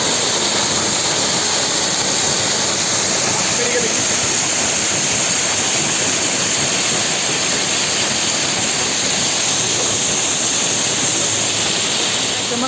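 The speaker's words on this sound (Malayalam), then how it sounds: "നല്ലൊരു അടിപൊളി വെള്ളച്ചാട്ടമാണ്" A loud, constant roar of falling water fills the whole clip, dense and unbroken, close by.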